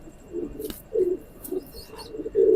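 A domestic teddy pigeon coos in several short, low, throaty bursts at close range, spaced irregularly over a faint background with no talk.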